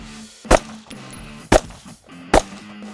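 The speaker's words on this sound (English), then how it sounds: "Just take your time and shoot 3 rounds." Three gunshots ring out at a shooting range, evenly spaced about a second apart, each a sharp close crack with a short echo against a quiet background hum.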